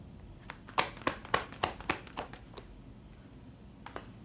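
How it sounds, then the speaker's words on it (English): Tarot cards being shuffled by hand: a quiet run of crisp, papery clicks and taps, evenly spaced for about two seconds, then a couple of isolated snaps after a pause. "I will, of course, show the cards once I get my usual 5 shuffled out."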